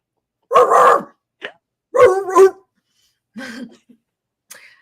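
A dog barks in a few separate bursts, loud and close, with short pauses between them and a softer yip or two.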